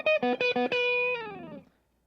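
Electric guitar riff on the second string, quick picked notes alternating with open strings under a dotted eighth delay, ending in a sustained distorted note that fades away; alone, no talk.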